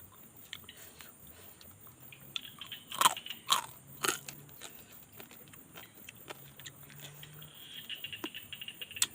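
Sharp crunchy bites into a grilled rice-field crab, a few crisp crackles clustered together, faint and close amid quiet background patter.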